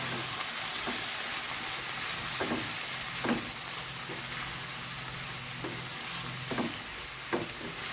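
Fenugreek-leaf and potato curry stirred in a pan, with a soft steady sizzle under scattered scraping clicks of the spoon at an uneven pace, close and fairly quiet.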